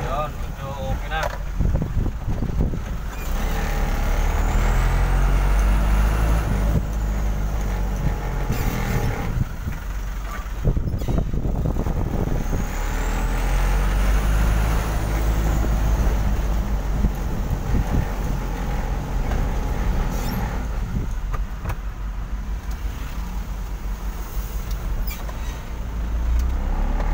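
A Hino 300 truck with a low-power fault drives along with its engine droning steadily. Wind noise buffets the microphone, and someone talks over the continuous road and engine rumble.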